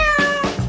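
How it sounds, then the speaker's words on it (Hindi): A cat gives one clear, drawn-out meow close by, with a rising then falling tone and no talking over it. "इस बार तुम्हारा पुरस्कार एक प्यारी बिल्ली है।"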